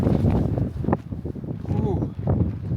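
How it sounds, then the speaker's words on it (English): Strong desert wind at a Joshua Tree campsite in Black Rock Canyon gusts around a tent. It makes a steady, loud low rumble and buffeting, with a person talking over it throughout. "Probably can hear all the wind. Still very windy."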